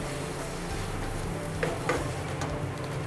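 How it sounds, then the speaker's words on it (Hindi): 250 grams of already boiled noodles are stirred in a pan over a medium flame, a soft steady sizzle with faint scraping and a few light clinks, close and quiet. "अब हम इसमें शामिल करेंगे 250 ग्राम नूडल्स जो कि ऑलरेडी बॉयल हैं। इसे मिक्स करेंगे"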